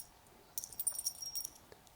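Loose single point sling adapter on an M&P 15 Sport rifle jingles in a short burst of small metallic clinks and rattles, faint and close, against a quiet background.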